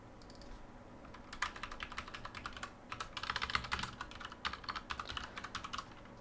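Rapid, uneven keystrokes on a computer keyboard while building an HTML and CSS template, clattering in close bursts with short pauses, continuing steadily throughout with no voices.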